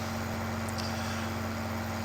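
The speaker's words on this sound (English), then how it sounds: "It's a crab-legging tractor." A JCB crab-steer tractor in Farming Simulator 15 runs with a steady low engine drone and a constant hum, unbroken and alone.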